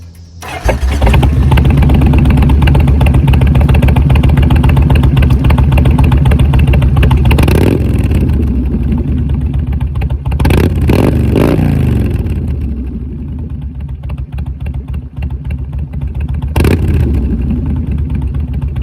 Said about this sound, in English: Let's listen to this exhaust.